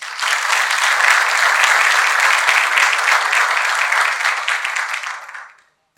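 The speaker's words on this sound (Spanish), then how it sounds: "para quienes pido un fuerte aplauso" Sustained audience applause fills a lecture hall at a master lecture event, steady and dense for about five seconds before fading out, with no talking over it.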